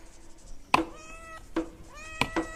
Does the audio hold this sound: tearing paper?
no